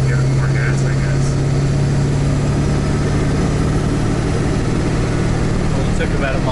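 A 7.3 Powerstroke diesel pickup on 24-inch wheels tows a big trailer, its engine droning loud and steady under load with a low humming tone, while people talk inside the cab over the engine.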